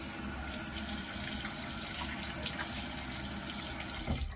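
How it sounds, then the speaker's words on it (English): Tap water running steadily into a bathroom sink during a vintage shave, a continuous close splashing wash with a brief louder gush near the end. "I'm going to get a splash of water"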